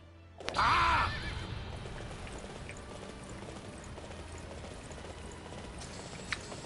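A horse in Dynasty Warriors 9 gives a sharp, loud burst at the start, likely a whinny, then a steady, quieter hoofbeat-like rumble continues under light game ambience for several seconds.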